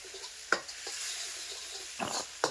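Tomato masala sizzling in a pan while it is stirred, a steady close frying hiss broken by a few sharp scrapes and clinks of the spoon.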